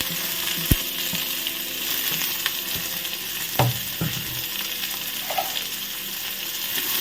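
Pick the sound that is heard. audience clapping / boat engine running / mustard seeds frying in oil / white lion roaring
mustard seeds frying in oil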